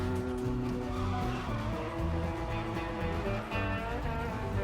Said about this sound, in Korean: 시작부터 초스피드로 출발한 둘은 코너링을 도는 이 어려운 드리프트 레이싱을 이어가는데요